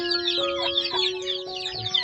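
Chicks and hens cluck and cheep in quick overlapping bursts, close by and busy, with a steady hum underneath, as the young chicks come out of their coop.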